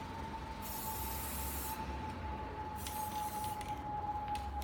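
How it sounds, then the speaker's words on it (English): A spray gun applying finish to the corners of a wooden jewelry display case: two hissing bursts of spray, close, over a steady high-pitched compressor whine and low background rumble. "I like to spray my corners first, just to make sure that I can get those very neat."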